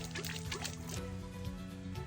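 Non-potable water runs at a mountain cabin on Seoraksan, a soft, close liquid trickle and splash heard over a low steady hum, with no talk.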